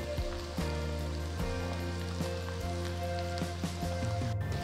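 A tempering of mustard seeds, hing, turmeric and red chilies sizzles and crackles steadily in hot oil, with scattered sharp pops from the splattering seeds, close and moderately loud.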